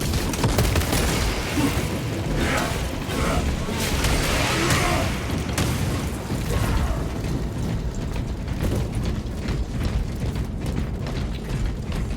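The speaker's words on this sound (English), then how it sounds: "Frag grenade out!" A frag grenade blast in the Space Marine 2 video game lands amid a dense, loud, continuous barrage of gunfire, mechanical clatter and booming combat noise.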